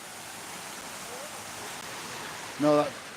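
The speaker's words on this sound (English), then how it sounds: "this is one of the other waterfalls" A waterfall in a park at a former water wheel site gives a steady, even rushing hiss throughout, with a brief faint voice near the end.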